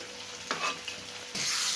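A spoon stirs fish curry with a fish head and tail pieces in a pan, making a brief scraping sound over a soft sizzle that swells louder near the end.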